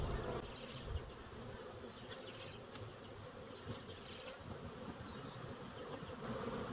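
A caught honey bee swarm hums steadily during transfer into a hive for honey production, a dense, continuous buzz of many bees close by with brief louder passes from single insects and no voices.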